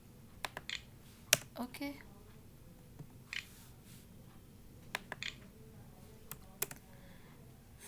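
Someone types an HTML closing tag on a computer keyboard, producing a sparse scatter of faint, crisp keystroke clicks at an uneven pace, with a quiet voice talking in between.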